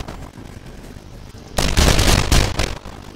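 An AK rifle fires in the survival video game 7 Days to Die, a loud burst of rapid shots with crackling reports that starts abruptly after a quieter stretch and continues for about a second before fading.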